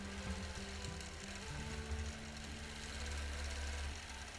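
A sewing machine stitches steadily through free motion quilting, running with a constant mechanical whir and rhythmic needle hum that shifts speed slightly, close and alone.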